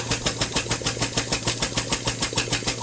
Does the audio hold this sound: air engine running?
yes